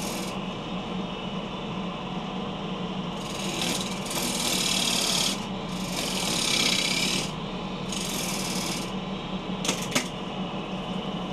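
A bowl gouge cuts waste from the top of a wooden bowl blank spinning on a lathe, held on a worm screw and tailstock; a steady motor hum carries repeated rasping cutting passes of a few seconds each, close and loud.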